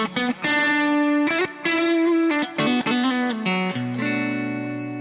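Distorted electric guitar with a passive Stratocaster-style bridge pickup, mid boost off, plays a short phrase of picked notes ending on a held chord, bright and slightly thinner, loud and alone.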